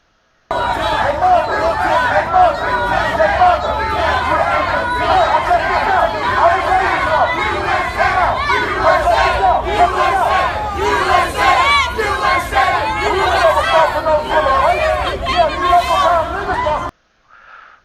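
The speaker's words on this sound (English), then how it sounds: "Antifa starts chanting Uncle Tom, Uncle Tom. Trump rally counters with USA." A large outdoor crowd of Antifa protesters and Trump rally supporters shouting and chanting at each other, a dense, loud, continuous roar of voices and rhythmic chants that cuts off abruptly near the end.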